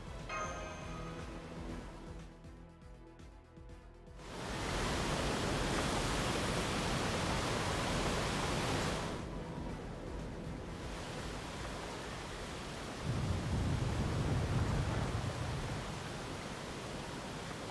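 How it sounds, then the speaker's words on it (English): A landslide of earth and rock in the rain in Fate/Grand Order rumbles as a dense, steady roar that swells louder after a few seconds, dips, then surges again, with no voices. "that was the sound of earth and rock. There's like a big landslide happening somewhere nearby."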